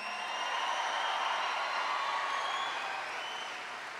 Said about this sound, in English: I want everybody to give a big round of applause to Charlie Dilbert for that great introduction